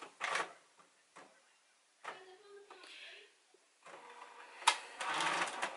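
A printer jams while feeding cardstock, giving several short mechanical whirs and clunks separated by pauses, ending in a louder grinding burst.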